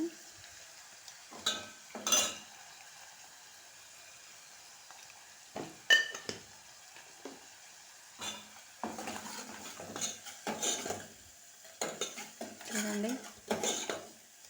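A metal spoon stirring tomato and chickpea curry with ginger-garlic paste in a pan, producing irregular clinks and scrapes in short bursts over a faint sizzle, close and clear.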